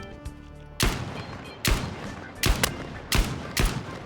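Five sharp, loud rifle shots from an M2010 ESR in a first-person shooter, spaced about a second apart, each a crisp crack with a brief booming tail, after a quiet hum of game ambience.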